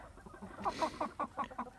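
Several soft, short clucks from hens inside a henhouse in a quick irregular series, fairly close against a quiet background.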